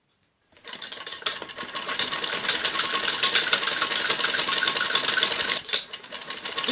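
A sewing machine runs a straight seam, stitching elastic onto a kameez sleeve: a fast, close, continuous rattling whir starting after a brief silence, with a short slowdown near the end.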